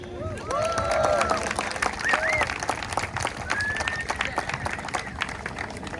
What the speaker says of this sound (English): Let's give another great applause for Dr. Saba and Dr. Goldsby